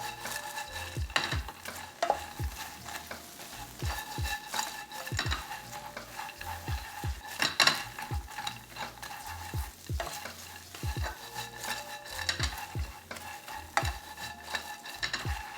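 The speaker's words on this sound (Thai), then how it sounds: "เราก็จะใส่พระเอกของเรา โปรตีนเกษตร แล้วก็ ใบมะกรูดทอดลงไปเลยนะครับ ทีเดียว ก็คลุกเคล้าให้เข้ากัน" Textured soy protein and fried kaffir lime leaves stir-fried in a hot pan for a vegan chili-ginger stir-fry, with a steady sizzle and a quick, regular rhythm of scraping spatula strokes, close up and without talk.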